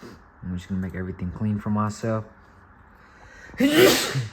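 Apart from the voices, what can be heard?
sneeze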